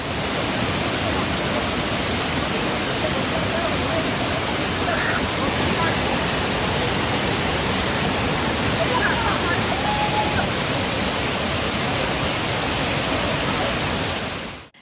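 Tiger Falls, a waterfall in Uttara Kannada, gives a steady, dense roar of falling water that stays loud and unbroken throughout before cutting off at the end.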